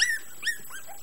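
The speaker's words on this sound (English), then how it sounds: "the poodles are going after Daisy" Poodles and their puppies give several high, thin whimpers and short yips in a quick series, fairly close, with nothing else heard.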